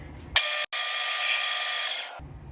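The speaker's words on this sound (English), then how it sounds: "Now we're going to come in with a cutoff tool and cut a small thread relief at the back of the threads." A lathe cutoff tool cuts a small thread relief behind the threads on a gun barrel for a Ruger MK IV Target suppressor host, producing a steady, loud broadband machining whine that starts abruptly, briefly cuts out, then runs about two seconds before stopping.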